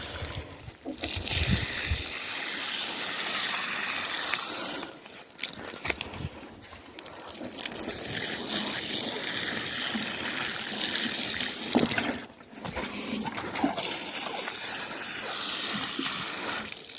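Water poured from a watering can onto freshly planted gladiolus bulbs in soil, a steady splashing gush running close and loud with a few brief pauses.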